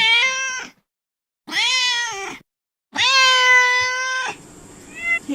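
A pet cat named Binks meows three times, long drawn-out and close, with short silences between, followed by fainter trailing cries.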